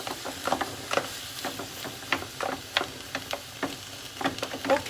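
Ground beef and onion frying in a pan give a soft, steady sizzle broken by frequent sharp clicks and scrapes of a utensil moving the meat; moderately close, without talking.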